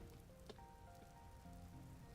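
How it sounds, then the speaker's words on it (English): Rain falls in the video game Vintage Story, a faint steady patter of drops, quiet and continuous, with thin tonal game sounds drifting through. "Is it rain? Yeah, it's probably raining."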